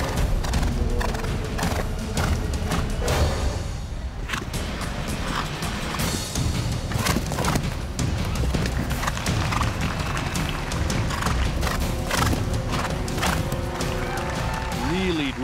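Horse clip-clopping and galloping through a show jumping round over jumps like Canada planks and a triple combination, hoofbeats steady and fairly close beneath continuous commentary and crowd ambience, with a brief whinny.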